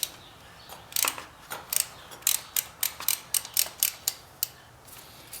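Ratcheting clicks from a 3/8 filter socket on a wrench loosening the oil filter of a Harley-Davidson Iron 883 Sportster, a close, steady run of about a dozen sharp ticks, with no talk.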